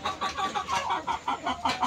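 Native deshi chickens cluck in a quick series of short, bright calls, about eight pulses in under two seconds, close and clear without voices.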